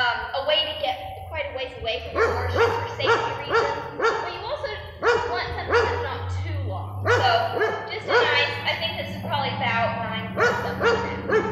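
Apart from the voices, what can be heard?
dog barking in the background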